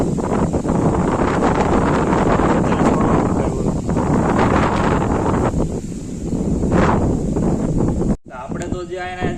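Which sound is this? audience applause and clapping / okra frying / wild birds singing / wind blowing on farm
wind blowing on farm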